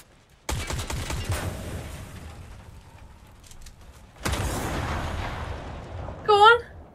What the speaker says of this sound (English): Shoot it so it blows up!